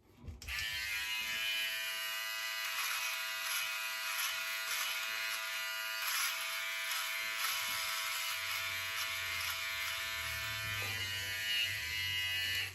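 A Philips OneBlade electric trimmer used without a guard to trim right up to the ear gives a loud, steady, close buzz that runs unbroken for the whole stretch, with a faint low rumble of handling toward the end.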